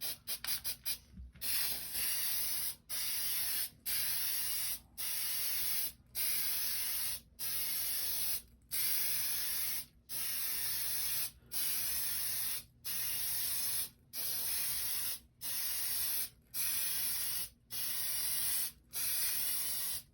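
Aerosol can spraying a coat of Plasti Dip, a loud close hiss in about a dozen even bursts of one to two seconds, each separated by a brief silent pause.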